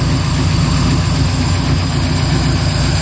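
A 1964 Ford Fairlane engine idles steadily and loud up close, a continuous low rumble with a faint lifter tick running through it, no voices.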